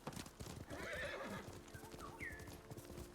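A horse in the video game Ghost of Tsushima, with steady clip-clop hoofbeats and a short whinny near the end, moderately close over quiet game ambience.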